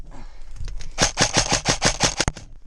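Rapid bursts of airsoft gunfire during an outdoor skirmish game, a steady rattling string of about a dozen sharp shots, close and loud, with no talking over it.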